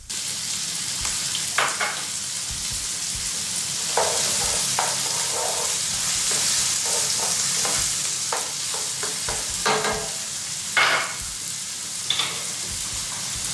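Carrots sizzle and fry steadily in a hot pan for a teriyaki dish, a continuous hiss with scattered pops and the scrape of stirring, close and loud throughout, no voices.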